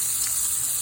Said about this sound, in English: Got a great sizzle, don't we?